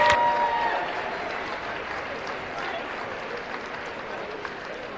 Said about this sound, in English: Ladies and gentlemen, a big round of applause for your state runner-up 2025 Miller Girls Golf